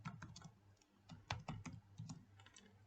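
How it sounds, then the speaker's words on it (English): Soft, fairly quiet typing on a computer keyboard while a variable name is entered in Scratch: a steady run of quick key taps with a few brief pauses, close by and alone. "Key in the first name as side length."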